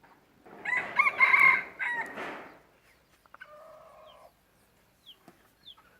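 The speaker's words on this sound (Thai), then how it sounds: "ขันดีมากครับ" A Thai decoy fighting rooster of the yellow-feathered type crows once, loud and close, with a long strained call, followed by a few softer clucks and scattered faint chirps in an otherwise quiet setting.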